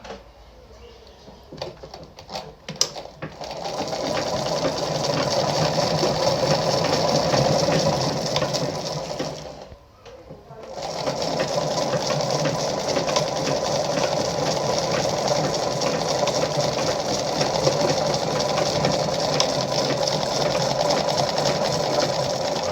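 A Lada 237-1 sewing machine stitching with a shortened stitch length makes a loud, steady mechanical whirring hum with a rapid rhythmic clatter. It starts after a few brief clicks, stops briefly near the middle, then resumes and runs continuously.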